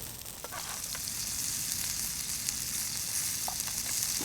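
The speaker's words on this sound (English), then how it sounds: "Plop it in the frying pan" A burger sizzles in a frying pan at a wild motorcycle campsite, giving a steady, close crackling hiss with occasional louder pops and no talking.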